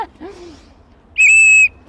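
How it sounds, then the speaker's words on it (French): A small safety whistle carried in a bag for personal protection, blown once in a short, piercing, steady blast up close, preceded by a brief soft voice. "simple sifflet qui prend vraiment rien dans votre sac"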